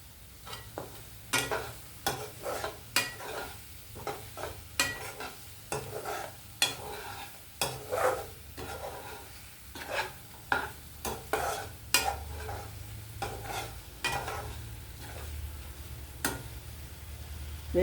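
A spatula scrapes and taps steadily against a pan as bitter gourd with cumin is stir-fried, giving irregular light clicks over a faint low sizzle. Each strike is soft and sounds close.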